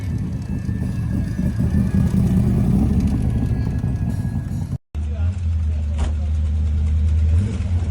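Alfa Romeo Montreal V8 engine revving at a cars and coffee meet in St. Petersburg, a loud, rough low rumble that settles into a steady idle, with voices mixed in.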